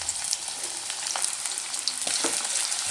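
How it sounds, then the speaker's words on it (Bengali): Chopped onions fry in a pan with dried chillies, giving a steady, close sizzle with occasional stirring scrapes and no voices. "পেঁয়াজটা খুব ভালো করে লাল লাল করে আমি ভেজে নেব।"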